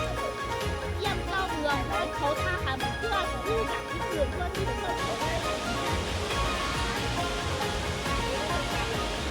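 Rushing waterfall water in a riverside village in Fenghuang, China, a steady broadband roar filling the whole stretch, loud and close, with faint voices mixed underneath.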